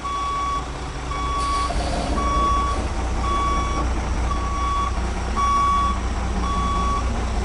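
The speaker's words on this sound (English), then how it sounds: "And as the truck swings around" A truck reverses during a CDL Class B skills test maneuver around cones, its backup alarm beeping loud and regular at an even pace over a constant engine rumble.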